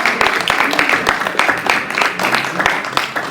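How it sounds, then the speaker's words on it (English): An audience claps for a volunteer flower arranger at a Science of Mind church talk, giving a dense, steady run of applause for about three seconds with no pauses. "So we have to give a big round of applause to Ruthann for these gorgeous."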